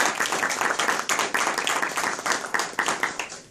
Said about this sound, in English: warm welcome and applause